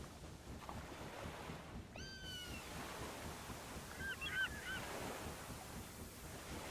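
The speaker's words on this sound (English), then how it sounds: "Let's listen for some birds in the background here." Geese honk faintly in the distance, a short call and then a brief cluster of honks, over a steady wash of water and surf.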